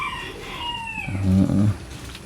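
Chickens cluck and squawk close by in a village house yard while one has just been chased indoors. A brief rising call is followed by a louder, rougher burst of squawking, with no one talking.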